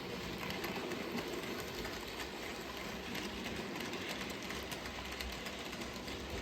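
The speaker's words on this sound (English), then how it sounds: "we'll watch a train or two" A model railway train on a layout runs past as a steady rumbling, rattling roll with faint clicking, even and continuous with no talk.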